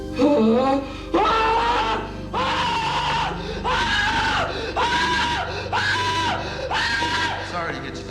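A man screams over and over in a county jail cell, with long, loud, strained cries in a steady repeating rhythm and short breaks between them.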